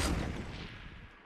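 Fortnite Battle Royale gunfire in a squad match, a loud burst of shots with a booming, rumbling tail that slowly fades over a second or so, no voices over it.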